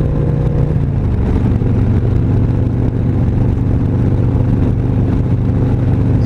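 A Harley motorcycle engine cruises at roughly 3,000 RPM and 60 mph as a loud, steady, deep drone with wind rush, and its pitch shifts slightly near the start.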